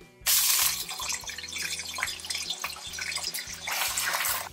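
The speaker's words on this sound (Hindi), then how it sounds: "अब इसमें हम डालेंगे ये अपना चिकन।" Chicken pieces dropped into plenty of hot oil in a kadai for chicken karahi, setting off a loud, sudden crackling sizzle that keeps frying steadily and close, with no talking.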